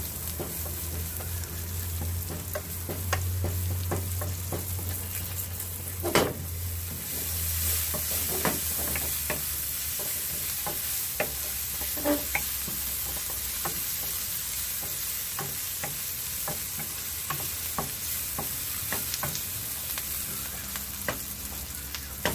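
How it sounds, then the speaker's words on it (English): Onion sweats in a small amount of oil for Jamaican curry chicken, giving a steady close sizzle broken by frequent sharp spatters and stirring clicks throughout, with no voices. "Let's keep sweating the onion until it's cooked properly"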